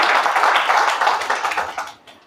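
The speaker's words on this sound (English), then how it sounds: "A big round of applause for her." Applause from participants at a virtual book launch for a Shona-language menstrual health comic, a dense wash of clapping held steady for about two seconds, then thinning and fading out.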